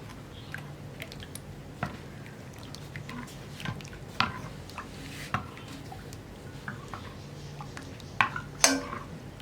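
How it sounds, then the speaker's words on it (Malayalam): Batter being stirred by hand right after hot jaggery syrup is poured in for Malabar kalathappam, giving soft wet squishing with scattered utensil taps and scrapes against the bowl, close and fairly quiet. "ഒഴിച്ചിട്ട് ഉടനെ തന്നെ ഇളക്കി കൊടുക്കുക"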